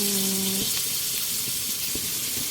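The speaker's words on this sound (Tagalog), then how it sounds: "Adding now our pork cubes" Pork cubes hit a hot pan with a loud, continuous hissing sizzle, punctuated by a few soft clacks and scrapes of stirring in a home kitchen.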